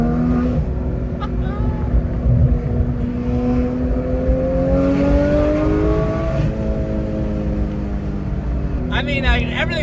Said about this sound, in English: The Dundon exhaust sounds amazing